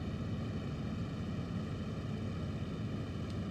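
Steady, droning engine roar of a Ju-88 bomber in the IL-2 Sturmovik flight game, a dense, unbroken rumble holding constant loudness throughout with no talking.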